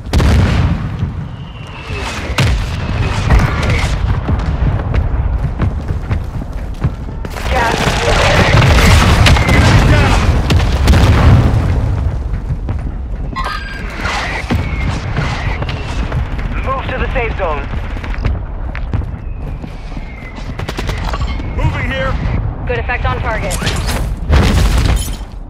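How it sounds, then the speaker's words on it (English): Mortar strike explosions in Call of Duty Warzone 2 boom and rumble repeatedly, with heavy blasts and crackling debris layered over continuous battle noise, loud and dense throughout, with radio voices speaking over parts of it. "Mortar strike inbound now."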